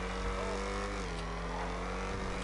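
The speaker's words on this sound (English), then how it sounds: "I do like the sound of the V8" V8 engine of the Ocelot XA-21 supercar driving in a video game, a steady low engine drone with shifting harmonics as it runs and changes pitch, continuous and fairly close throughout.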